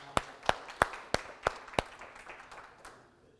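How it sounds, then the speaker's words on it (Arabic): A conference audience claps in appreciation of a doctor's answer, six sharp, evenly spaced claps followed by a scatter of softer, fading claps, with no talking. "ويستاهل عليها تصفيق الدكتور"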